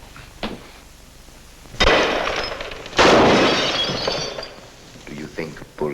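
Two sharp, loud gunshots in an old black-and-white mystery film, about a second apart, each followed by a long crashing, shattering tail over a quieter room background.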